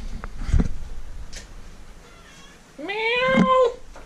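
A cat gives one clear, close meow near the end, after some soft rustling and small taps in a quiet indoor space.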